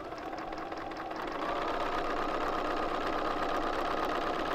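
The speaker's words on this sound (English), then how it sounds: "I'm going to sew to this corner." A sewing machine stitches bias quilt binding, giving a steady, close mechanical whir that runs without a break and with no talking.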